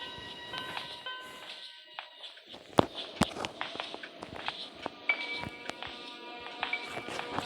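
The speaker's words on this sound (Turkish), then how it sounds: "Ayak sesleri geliyor ama kendisi yok." Enemy footsteps in the Granny Chapter 2 horror game, soft irregular thuds and creaks moving around at moderate distance, with sharp clicks and faint tonal chimes scattered through a quiet ambient bed.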